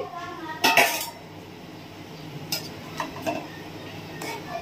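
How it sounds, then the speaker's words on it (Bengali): Soybean chunks and paneer simmer in a curry pot while a metal spoon stirs, giving one loud clattering scrape of utensil on pot, then a few faint light taps over a quiet low hiss. "এই দিয়ে আমি একটু নেড়ে চেড়ে আবার ঢেকে দেবো তরকারিটা"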